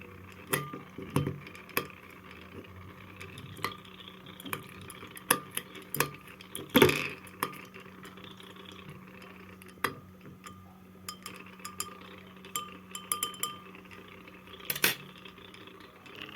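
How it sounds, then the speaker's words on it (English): Glass rod grinding and crushing paracetamol tablets inside glassware, giving irregular faint clinks and scraping taps scattered throughout, with one sharper, louder clatter near the middle, no talking. "I break down the tablets using a glass rod and started applying some heat."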